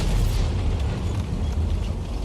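A heavy, sustained rumbling blast from a HEAT round striking an Emil tank in a tank combat game, loud and close, a dense low roar that stays at the same level and does not fade.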